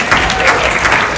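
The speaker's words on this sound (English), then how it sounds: "Can we give a round of applause to Conexxion?" A crowd at a company sales event gives a round of applause for Conexxion. The clapping is dense, loud and close, sustained for the short moment with no talk over it.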